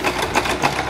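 Sewing machine stitching Russian-style embroidery, a short close burst of quick pulsing needle strokes with no talk over it.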